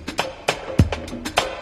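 A drum break from an old recording, heard on the right channel only and soaked in heavy reverb, with sharp hits recurring in a loose rhythm and fairly quiet, washy tails.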